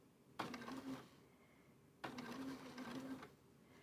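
A sewing machine stitches a quilt in two bursts of about a second each, with a steady whirring hum and a separating gap, close and moderately loud with no talk.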